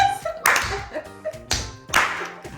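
A deliberate slow clap, a few sharp hand claps spaced about half a second to a second apart, close and fairly loud, with some talking and sound around them.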